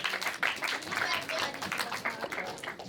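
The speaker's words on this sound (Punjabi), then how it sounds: "ਤਾੜੀਆਂ, ਬਹੁਤ ਸਾਰੀਆਂ ਤਾੜੀਆਂ" An audience applauds at a Punjabi literary book event at Punjab Bhawan in Lahore, a dense, brief burst of clapping mixed with voices in the crowd.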